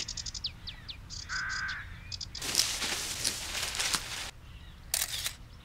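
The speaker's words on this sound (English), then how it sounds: "That bird song sounds just like a blue-crested warbler" Bird song said to come from a blue-crested warbler in a cartoon setting: short chirping notes and trills at the start, followed by louder broadband rushes and a camera-like click near the end.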